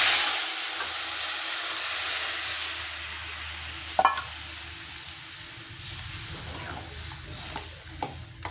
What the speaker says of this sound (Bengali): এখন আমি ডালটা সম্বাদ দিয়ে দেবো এখানে।